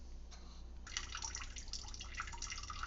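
Tap water runs steadily into a bowl in a sink, a soft continuous rush that thickens and grows more splashy partway through, with small drips and bubbles on top, close and fairly quiet.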